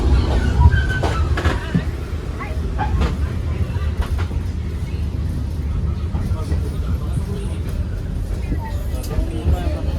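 A passenger train, the Sri Tanjung from Banyuwangi to Surabaya pulled by two locomotives, rumbles steadily along the rails, a continuous low roar with faint rhythmic clatter and occasional metallic squeals, heard from inside the carriage.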